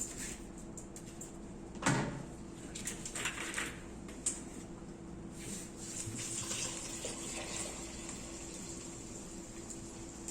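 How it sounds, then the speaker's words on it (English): Water poured onto washed beans in a home kitchen, a steady splashing stream that runs the whole time, with a sharp knock near the start and a few smaller clunks. "now the beans have been thoroughly washed, I'm now going to add some water to them."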